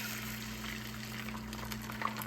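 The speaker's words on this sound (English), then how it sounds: "I'm going to pour in the egg" Beaten egg poured into a pan heated on low for cheesy scrambled eggs gives a soft, steady liquid hiss and sizzle that holds evenly throughout, fairly faint and with no talking.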